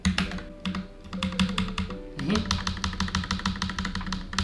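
Typing on a Keychron K2 70% mechanical keyboard: rapid, irregular key clicks up close, running under casual conversation.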